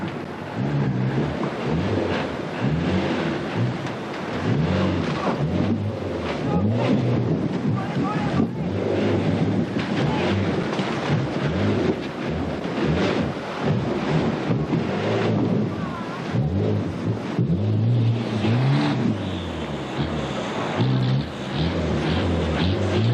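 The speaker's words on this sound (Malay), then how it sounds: "Saksikanlah kenderaan cuba mengharungi sungai ini." A four-wheel-drive vehicle wades through the Mandalung River in Borneo, giving a loud, steady churning of water and engine with gusty wind noise over the whole stretch.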